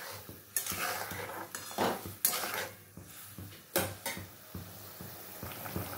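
A pot of paneer and potato curry simmers on the stove while a utensil clinks and scrapes against the metal in a few sharp knocks, with a soft bubbling sizzle underneath, close and fairly quiet.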